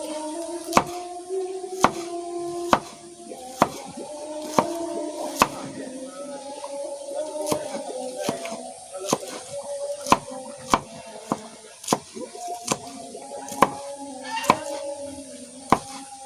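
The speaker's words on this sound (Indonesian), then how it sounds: "Ada bawang, bawangnya diiris dulu." A knife slices onion in a rural Sundanese village kitchen with a steady series of sharp, close chopping knocks, roughly one per second, over a faint continuous hum. There is no talking.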